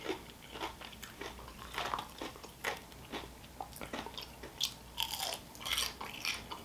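Close, crisp crunching of breaded fried shrimp being chewed, irregular bites and crunches repeating with no talking.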